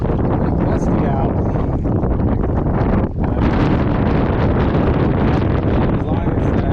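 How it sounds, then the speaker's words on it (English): Strong gusty wind buffets the microphone out on a lake during a fishing trip from a boat, a steady loud roar with brief lulls and faint rustle throughout. "Pretty gusty out."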